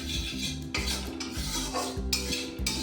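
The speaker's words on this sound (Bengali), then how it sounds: "বেসনটাকে খুব ধৈর্যের সাথে ভালো করে আমি ভেজে নেব পুড়তে দেব না" Gram flour (besan) being stirred and fried in a pan, with repeated scraping and clinking of a spoon against the metal in a steady rhythm, close and fairly loud, with no talking.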